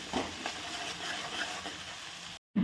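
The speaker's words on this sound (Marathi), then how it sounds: "कांदा टाकून घेऊ आलं लसूण पेस्ट टाकली कांदा छान परतून घ्यायचं" Onion sautés in a pan with ginger-garlic paste for pav bhaji, giving a faint, even sizzle with soft stirring scrapes, cut off by a short silence before a final knock.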